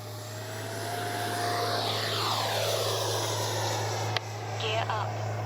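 A Freewing Avanti S 80mm electric ducted-fan RC jet spools up for takeoff outdoors, its rising whine sweeping upward over a steady hum, with a person speaking nearby.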